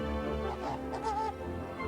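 Goose honks from the farm animals in the video game Orwell's Animal Farm, a few nasal calls over a steady layer of game music, moderately loud and close.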